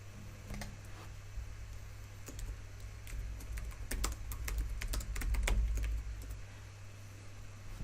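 Rapid, irregular clicking of computer keys, close by, in bursts of typing over a low steady hum.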